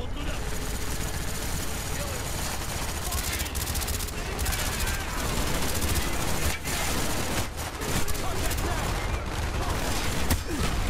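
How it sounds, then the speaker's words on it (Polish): Dense, continuous battle noise from the Call of Duty Black Ops video game fills the whole stretch: rapid gunfire bursts and booming blasts overlap without pause, loud and chaotic, with occasional sharper cracks cutting through. "Badum, wszystko wybucha"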